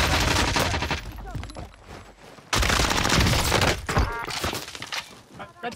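A battle royale video game firefight: loud bursts of rapid gunfire come in dense, crackling volleys with sharp onsets, one dropping off before another barrage starts, close and forceful throughout.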